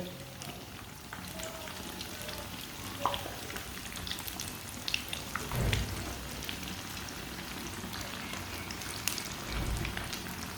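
A cheese sandwich fries in a pan, giving a soft, steady sizzle and crackle close by, with a few light scrapes and taps of a spoon and no talking.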